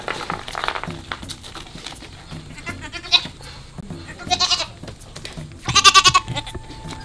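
A live goat in rural Ilocos Norte bleats several times, loud and close, with wavering cries spaced a second or two apart over low background noise.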